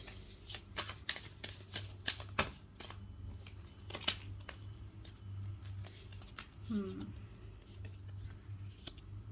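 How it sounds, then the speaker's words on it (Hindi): Tarot cards being shuffled by hand make repeated crisp riffling and flicking bursts at close range, with quiet background noise and a brief low vocal sound partway through. "जब तक मैं कार्ड शफल कर रही हूँ"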